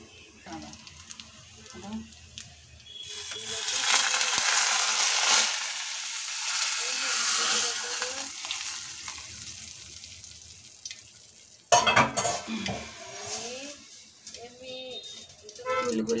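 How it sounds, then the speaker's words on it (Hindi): Garlic and cumin tempering hits hot oil and sizzles loudly, a broad hissing burst that swells and then settles over several seconds, followed by a sharp clatter and softer kitchen sounds. "अब इसमें बघार के डालेंगे लहसुन और ज़ीरा।"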